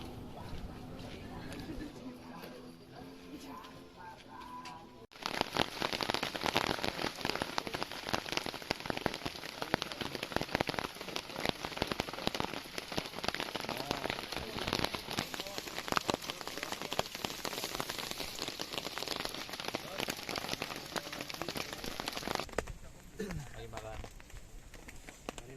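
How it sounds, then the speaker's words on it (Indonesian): Heavy rain pours steadily on a mountain trail on Mount Gede, a dense hiss that starts abruptly after a quieter opening and runs for most of the stretch before easing near the end. "sambil nunggu hujan yang belum reda"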